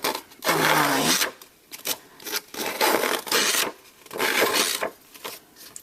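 A rasp files along the paper edges of a scrapbook layout, giving repeated rough scraping strokes in steady bursts, close and fairly loud, with short pauses between strokes.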